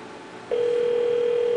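A Cisco IP phone used on an Asterisk system gives a steady, continuous dial tone that starts abruptly after a brief hush and holds evenly and clearly to the end, with no talking.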